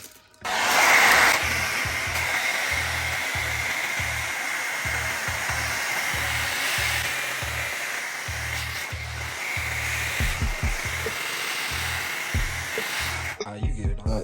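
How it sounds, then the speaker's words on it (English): A hair dryer blows steadily, loud and close, as cleaned Air Jordan 12 International Flight sneakers are shrink-wrapped, a constant rushing whoosh that switches on abruptly and cuts off near the end. "we're gonna use the hair dryer to get these wrapped"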